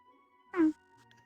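A cat gives a single short meow near the mic, with a faint electronic hum beneath and soft background noise after.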